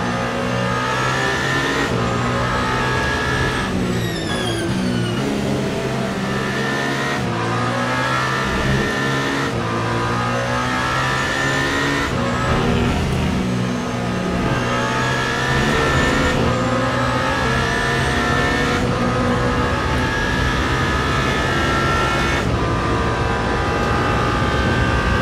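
Toyota GR010 hypercar racing at Le Mans in a sim-racing game, its engine note loud and close, rising and falling through gear changes with steady revving and sweeping pitch shifts over about twenty-five seconds of continuous driving.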